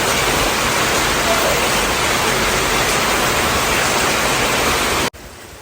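Heavy rain pours down in a dense, steady hiss, loud and unbroken for several seconds before cutting off sharply, with no voices heard.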